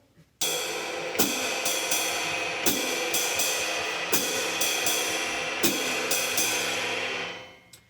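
A shimmering jazz ride cymbal rings continuously with a regular swung pattern, hi-hat accents recurring on beats 2 and 4 at an even pace before the sound fades out.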